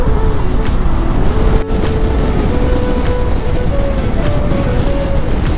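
A motorcycle cruises along a highway in the early morning, its engine whining steadily under loud, continuous wind rush, with a slowly rising tone as it holds speed.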